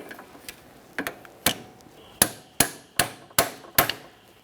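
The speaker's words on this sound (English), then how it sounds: "you may have to lightly tap on the side that has the cable going through it" Locking pliers are tapped against a parking brake cable on a 2011-2021 Jeep Grand Cherokee, giving about ten sharp metallic taps, close and clear, spaced unevenly and growing stronger toward the end.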